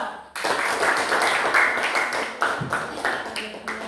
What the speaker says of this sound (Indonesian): mari kita berikan aplaus kepada kelompok 2